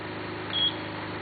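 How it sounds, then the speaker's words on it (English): A Duplo DSF-2000 gives a single short, high-pitched electronic beep over a faint steady hum. "If you don't want to hear this beep anymore, turn it off."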